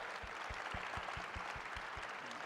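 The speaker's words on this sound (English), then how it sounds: "Just a round of applause for them." Audience applause at a TEDx event at Grand Canyon University, a dense steady wash of clapping with rhythmic low thumps running through it, loud and continuous with no talking.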